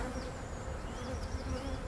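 A dense, steady drone of honeybees swarming around hive boxes at an opened beehive. The bees are close and loud, and the buzzing holds without a break.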